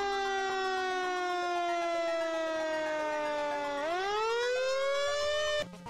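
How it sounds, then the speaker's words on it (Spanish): Fire brigade sirens wail loudly and continuously, the pitch sagging slowly then rising again, before cutting off abruptly at the end. "como se escucha en el video llaman a los bomberos"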